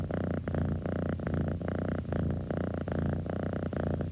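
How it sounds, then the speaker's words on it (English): A domestic cat purrs close and steady for about four seconds, a low rumbling drone that pulses in an even rhythm of short breaths, with no voices over it. "The cat's purr is one of nature's most soothing sounds, and perhaps one of its most baffling."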